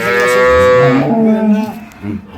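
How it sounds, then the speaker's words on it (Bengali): A dairy cow on a farm keeping improved-breed milking cows and calves lets out one loud, close, drawn-out moo that falls in pitch and then fades. "দেখেন গরু আছে না ওই গরুগুলো আছে একটা"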